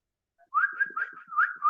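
A person whistles alone, close up, in a short warbling run of quick rising and falling notes that follows a moment of silence.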